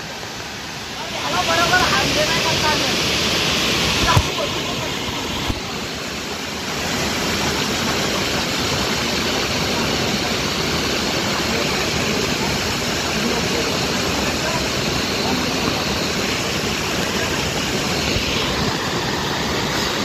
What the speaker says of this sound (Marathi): पाऊसच एवढा पडला ना, भरपूर पाऊस पडला, पाणी पण वाढलंय